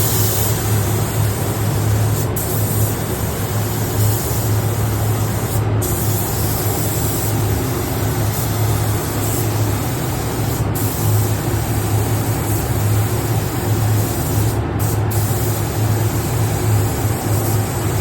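A spray gun hisses in a loud, continuous stream while painting K5 Blazer bodywork, with a steady low compressor hum beneath and a few brief breaks in the spray.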